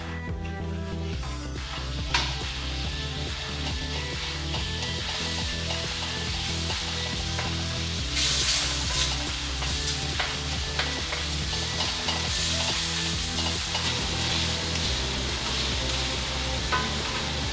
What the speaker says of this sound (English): for a wok, we're sizzling